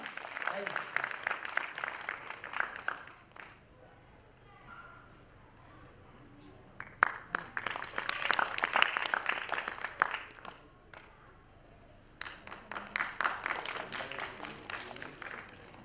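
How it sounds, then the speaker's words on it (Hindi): Audience applause fills an auditorium at a devotional Sai Sandhya evening in Mumbai, with bursts of clapping rising and falling across the stretch and a voice heard over the clapping at points. "एक बार जोरदार तालियां हो जाए दोस्तों।"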